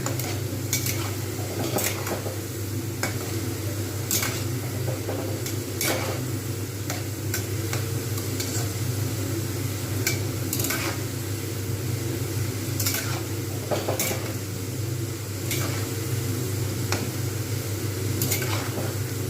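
Grated potatoes fry slowly in oil for crispy aloo bhaja. A steady low hiss and bubbling continue throughout, with regular light clicks and taps of a utensil against the pan, close by and with no talking.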